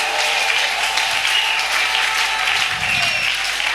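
A church congregation bursts into loud, sustained applause and cheering that fills the space steadily throughout, dense and close with a low rumble of crowd noise underneath.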